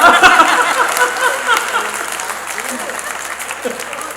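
Applause from the audience at a Hindi poetry gathering (kavi sammelan), a burst of clapping that starts loud and tapers off over a few seconds, with a voice speaking over it.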